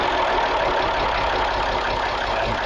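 A restored, pristine Massey Ferguson 35 tractor at a vintage machinery auction runs at a steady, loud idle, its engine drone continuous and even with no talk over it.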